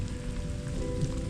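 Steady rain patters onto a surface in a dense, even wash without any pause.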